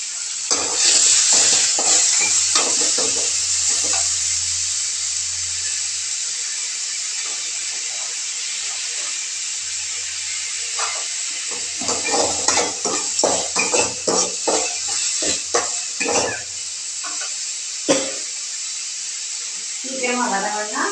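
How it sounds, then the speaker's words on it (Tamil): Chopped onions and green chilies sautéing in a pan for wheat rava upma, a constant bright sizzle with clinks and scrapes of stirring, while a voice talks over much of it. "வெங்காயம் பச்சை மிளகாயை நான் போடுறேன். அதுவும் நல்லா வதங்கணும்."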